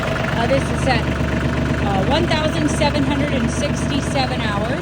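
A New Holland Workmaster 40 4x4 diesel tractor idles steadily close by, a continuous low engine rumble running beneath a voice the whole way through.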